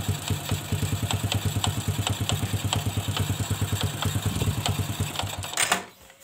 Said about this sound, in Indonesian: kalau saya netralkan kembali mesin ini bersuara keras sekali